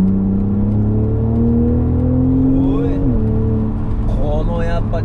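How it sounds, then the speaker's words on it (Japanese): A BMW Z4 M40i roadster's 3-litre inline-six turbo engine hums and climbs in pitch as the car accelerates on a mountain road with the roof closed, steady and near, with someone talking over it. "このやっぱ直列6気筒の粒が揃う感じのふわーっていう吹き上がる感じはいいですよね。"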